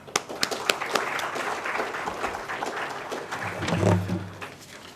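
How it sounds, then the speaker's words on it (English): Audience applause at a corporate HR round table event in Bangalore, welcoming the panel onto the stage: dense, steady clapping from a large room that swells toward the end, with some murmuring mixed in. "request you all to welcome them with a huge applause"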